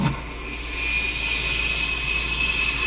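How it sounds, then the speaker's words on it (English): A jet aircraft in a video game roars overhead as a steady, loud broadband whoosh with a high whine, holding without talk. "Or maybe the jet's just taking everybody out."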